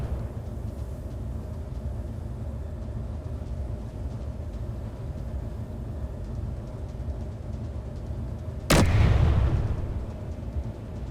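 A single loud, sharp gun blast in the Space Engineers survival game, breaking late through a steady, heavy low rumble of engines that runs throughout.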